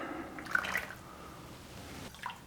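Pottery glaze drips and trickles back into its container after a pot is dipped, a few faint, close wet patters and splashes in an otherwise quiet space.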